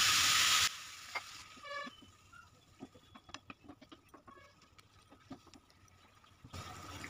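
Radish curry with potato and spices simmering in a pan on a gas stove after a cup of water goes in, a soft steady bubbling sizzle with light stirring scrapes, alone and fairly quiet.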